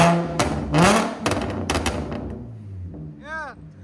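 A 440 hp Audi S4 with a supercharged 3.0L V6, downpipes and a 14-inch Magnaflow exhaust revs in loud, close bursts, the engine roar rising and falling several times before settling, then a brief voice speaks.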